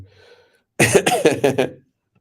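A short burst of harsh coughing, several quick rough bursts in a row after a moment of near silence, close and fairly loud.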